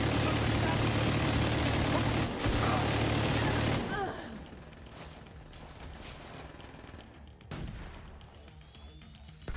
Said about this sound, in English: Did somebody blow up that barrel?